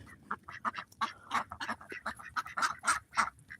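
A flock of farm ducks quacks in a rapid, overlapping chatter, many short calls tumbling over one another at moderate distance with no talking.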